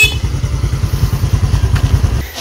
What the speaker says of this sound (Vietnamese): Xe máy chở ra